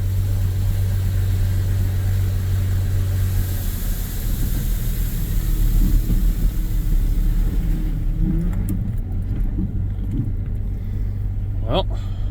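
Old Jeep Comanche pickup, left sitting for three years, rumbling steadily while driving, its engine drone continuous and fairly loud throughout with a brief rise near the end.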